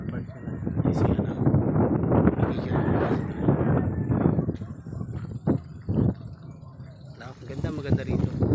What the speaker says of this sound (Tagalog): Lakas po ang hangin.